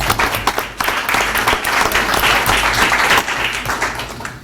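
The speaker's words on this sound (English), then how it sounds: "Give them a round of applause." Applause from a school board meeting audience for a student team, loud and sustained with dense clapping throughout and a brief dip near the start.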